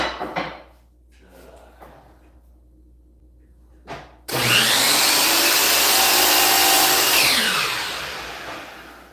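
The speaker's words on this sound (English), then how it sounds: "I'm gonna go cut that off back there at the miter saw real quick" A miter saw cuts off a round piece of a paper towel rack in a workshop. After a few quiet handling knocks, the blade spins up into a loud, close, sustained roaring whine that bites through the wood and then winds down.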